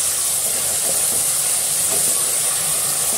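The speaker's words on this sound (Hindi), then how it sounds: "डाल के इसको अच्छे से भून लेंगे" Ginger garlic paste fries in a pan with a loud, constant hissing sizzle that holds at an even level from start to finish, close and alone with no voices.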